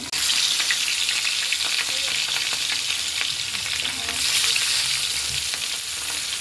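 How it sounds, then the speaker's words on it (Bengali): Pieces of katla fish fry in hot oil, a loud, dense, continuous sizzle close by, with soft crackles and occasional stirring throughout. "মাছ আমার ভাজা হয়ে গেছে, আর কিছু আছে সেগুলো দিয়ে দেবো।"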